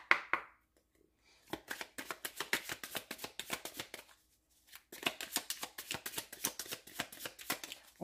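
Oracle cards for a tarot reading are shuffled by hand in quick, close riffling bursts, with a pause partway through and soft card taps at the start.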